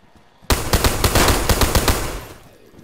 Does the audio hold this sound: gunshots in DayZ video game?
yes